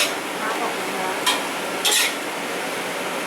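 Beef with holy basil stir-fried briskly in hot oil, making a loud, steady sizzle throughout with two short scraping bursts from the spatula or pan.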